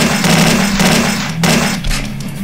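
An M249 machine gun fires continuously in the Slendytubbies video game, a loud rapid rattling burst that holds almost unbroken across the whole moment.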